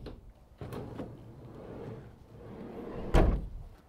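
A sliding side-loading door on a 2019 Renault Trafic 1.6 dCi van rolls along its runner and shuts with one loud, close thud near the end, following fainter knocks and handle clicks.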